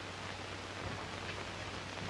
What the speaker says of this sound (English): Rain, rain, rain. Whenever is it going to stop?